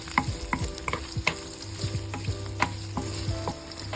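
Onion sautéing in hot oil in a pan, with repeated sharp scrapes and taps of a utensil stirring it over a steady close sizzle.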